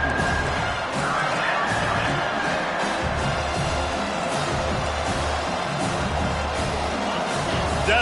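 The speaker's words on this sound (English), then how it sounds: "Decibels rising as the crowd gets behind this defense on third down" Football stadium crowd cheering for the defense on third down at a USC vs Vanderbilt game, a dense, continuous roar that stays loud and steady throughout.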